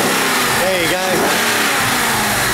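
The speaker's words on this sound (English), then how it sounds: "We're going to give it a bit of a rev for you and let you have a listen to it" A Ford car engine revs loudly up close, rising and falling in a short burst over a steady engine roar, with a voice talking over it.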